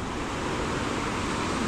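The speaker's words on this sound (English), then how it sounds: "You see the water flowing down." A mountain stream on Mount Apo in the Philippines rushes down beneath a small bridge, a steady close broadband roar of flowing water with no voices.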